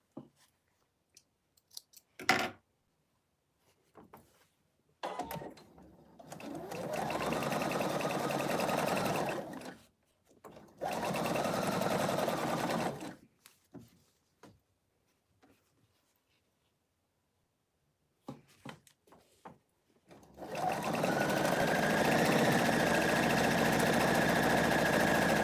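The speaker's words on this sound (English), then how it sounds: "So I'm just going to use a 1/4 inch and sew this." Sewing machine stitching a quarter-inch seam on a fabric stocking ornament, running in steady whirring bursts of several seconds with short stops between, close and clear with no talking.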